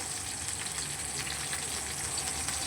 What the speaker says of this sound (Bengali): দেখতেই পাচ্ছ অল্প তেলেই ভাজছি